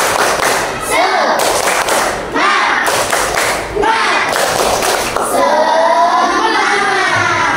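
A class of children in an Indonesian classroom does a 'tepuk semangat' clapping chant, with repeated loud clap bursts and shouted group voices in a lively rhythm, close up.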